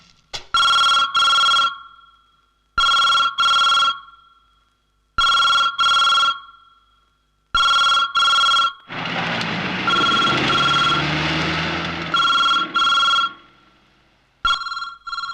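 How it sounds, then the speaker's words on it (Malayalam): A telephone rings loud and close in repeated double bursts with short silent gaps, and a noisy stretch covers the middle of the ringing. "ഫോൺ റിങ് ചെയ്യുന്നുണ്ടല്ലോ"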